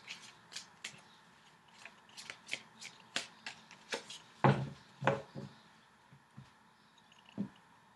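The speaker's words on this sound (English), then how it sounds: "I'm going to cut the cards" Tarot card deck being shuffled and cut by hand, crisp close riffles and snapping slaps in an uneven series with quiet gaps between.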